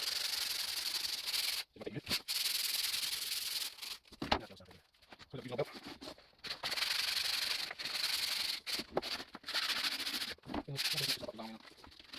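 Hand sanding a rustic wooden coat hanger smooth, with repeated rough rubbing strokes in uneven bursts separated by short pauses, close and fairly quiet, with brief talk in between.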